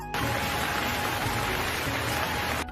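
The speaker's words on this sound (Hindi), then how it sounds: "राधा, देखो कितनी तेज बारिश हो रही है।" Heavy rain pours down in a dense, constant hiss of drops on surfaces, loud and unbroken for the whole stretch, with no voices.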